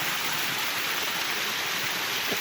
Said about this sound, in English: here's another example of a waterfall coming out of a tree